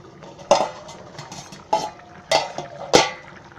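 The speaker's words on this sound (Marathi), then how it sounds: "आता जरा मी एकदा हलवते फक्त" Moong dal khichdi stirred in a pot, four distinct clanks of a spoon against the metal rim at uneven intervals, close and fairly loud, with soft scraping between them.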